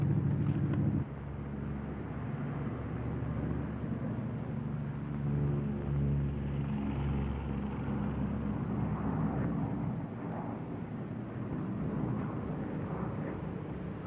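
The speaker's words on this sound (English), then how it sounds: "Hey, one engine's quit. You still got another engine." A Lockheed P-38 Lightning flies on a single engine, a steady, droning engine roar with a low rumble and wind noise that holds constant throughout, no voices.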